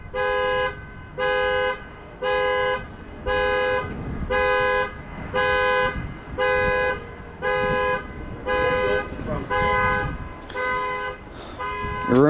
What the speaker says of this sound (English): setting his car alarm off